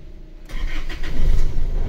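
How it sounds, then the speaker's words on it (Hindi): A 2023 Isuzu D-Max engine cranks and catches after a quiet moment, then settles into a loud, close, steady idle. "गाड़ी स्टार्ट कर रहा हूँ"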